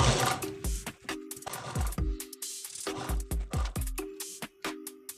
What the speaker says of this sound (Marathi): आता मी शिवणं स्टार्ट केलेलं आहे ते.